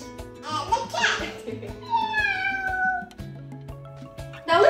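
A cat meows in a long, drawn-out wail in the middle, with a voice speaking around it.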